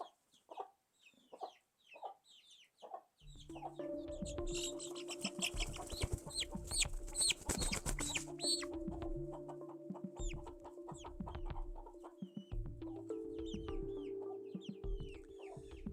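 Chickens cluck and squawk in a busy flock, sparse at first then loud and constant, with a rooster giving repeated alarm calls over a low droning hum.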